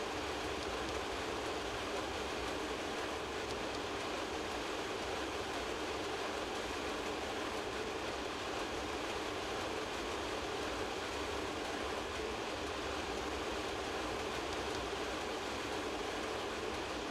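The RAe TEE II electric train running on the Gotthard line in Train Simulator 2020 gives a steady, loud rolling rumble with a continuous broad hiss and faint wheel clatter, constant with no talk over it.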